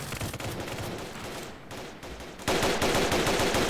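Rapid automatic gunfire from the Roblox Squid Game, loud and continuous bursts with a brief lull before an even heavier, denser volley takes over.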